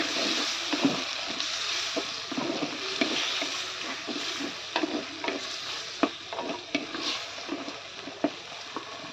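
Chopped tomatoes sautéing in a pan for Kerala onion sambar, with frequent spoon stirring and scraping knocks over a continuous soft sizzle, close and moderately loud.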